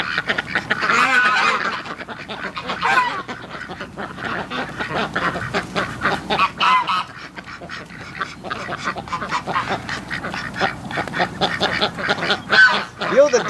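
Ducks and geese calling together at a hatching farm, a dense, continuous chorus of quacks and honks close by, with bursts of overlapping calls rising and falling throughout.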